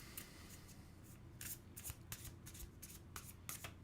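Animal oracle cards shuffled by hand in a steady run of soft riffling bursts, close and fairly quiet, with no talking.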